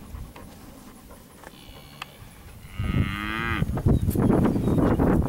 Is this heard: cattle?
yes